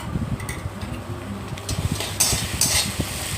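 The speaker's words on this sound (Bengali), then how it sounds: "তারপর কুচনো পেঁয়াজ আর আদা আর কাঁচা লঙ্কার পেস্টটা দিয়ে ভালোভাবে ভেজে নেব। একটু ডিপ ফ্রাই করে নেব।" Chopped onion with ginger and green chili paste deep frying in oil over a low flame, a steady soft sizzle broken by repeated scraping and stirring clatter from a spatula in the pan, close by with no talking.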